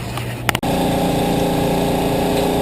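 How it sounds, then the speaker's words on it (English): Air compressor running, a loud steady motor drone that starts after a brief clatter and holds constant close by, with no talking. "we're going to have to get the compressor going"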